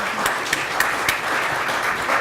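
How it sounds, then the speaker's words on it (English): An audience claps in a burst of applause after a panel discussion on election security and e-voting. The clapping is dense and steady, with a few sharper claps standing out, and no one speaks. "And if we can have a little bit of an applause."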